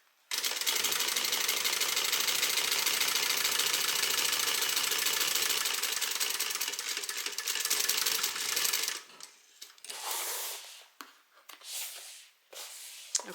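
A sewing machine runs close and steady, top stitching a bag seam in one continuous whirring stretch of about nine seconds, then stops and is followed by a few short handling noises.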